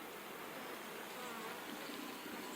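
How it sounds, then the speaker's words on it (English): Honey bees buzzing around beehives during a hot-weather hive inspection, a dense continuous drone of many insects, soft and steady with no voices. "Now these bees are doing fine right here."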